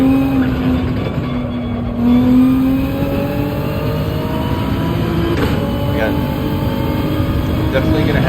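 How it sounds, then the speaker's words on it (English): Race car engine in a racing video game, a steady loud droning whine with rising and falling pitch sweeps as it revs and shifts, continuous throughout, with a voice talking faintly underneath. "all I hear is my engine"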